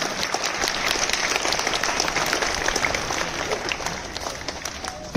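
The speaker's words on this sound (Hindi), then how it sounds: "सभी जोरदार तालियां।" An audience at a National Sports Day event applauds loudly, a thick, continuous burst of clapping that holds steady and then eases slightly before a sharp knock at the very end.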